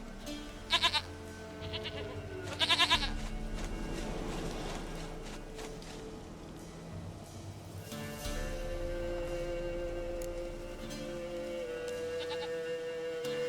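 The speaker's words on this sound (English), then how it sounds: "Goat of mine, dearest, sweetest goat." Goat bleating in The Witcher 3, a few short wavering bleats up close over a steady game ambience and background music.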